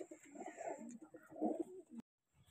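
Pigeons coo in soft, throaty bursts, several birds overlapping close by, then the sound cuts off abruptly near the end.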